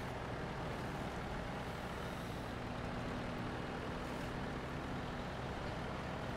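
Truck engine in the off-road driving game Snowrunner, pulling a trailer, giving a loud, constant low drone with no breaks and no talk.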